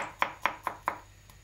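Four sharp knife strikes chopping peeled medium onions into small pieces on a cutting board, evenly spaced and close, then a faint fifth tap, with no talk.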